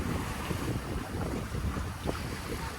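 Strong wind roars steadily across a sailboat under way with a 70% jib and double-reefed main, waves and rushing water mixing in with constant buffeting gusts, loud and unbroken throughout.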